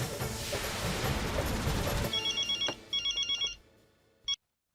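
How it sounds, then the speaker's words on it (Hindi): After a burst of loud, noisy clatter, an indoor telephone bell starts ringing in quick rapid-fire pulses, two ring bursts and then a brief start of a third before it cuts off abruptly. "मैं अभी उन्हें फोन करके बुला लेती हूँ।"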